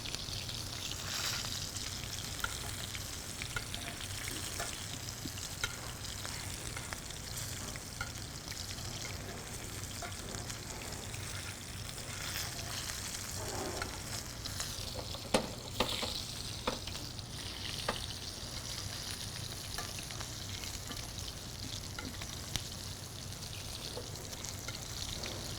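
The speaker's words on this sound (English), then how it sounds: "So that was a good sear, about 3 minutes on each side" A ribeye steak sears in a hot pan with a steady, loud sizzle and crackle that runs unbroken throughout, with occasional spits and pops and no talking.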